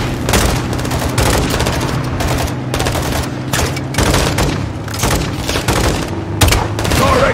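Heavy gunfire and launcher blasts from Call of Duty Modern Warfare 2 come as dense bursts of shots and booming impacts, loud and close, with brief gaps between volleys.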